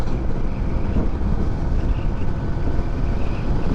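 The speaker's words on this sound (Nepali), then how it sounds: "यो मैले चलाइरहेको स्कुटर चाहिँ एनम्याक्स 125 हो है यामाहाको हो" Yamaha NMAX 125 scooter cruising on a highway, a steady loud rush of wind buffeting the microphone over a low continuous engine drone, with no voices.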